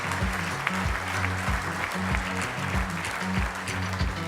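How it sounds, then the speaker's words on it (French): An audience at a business conference applauds to welcome speakers, a brief dense burst of clapping with rhythmic music pulsing underneath. "Merci d'accueillir sous vos applaudissements Thomas Huriez et Éric Dellet, s'il vous plaî"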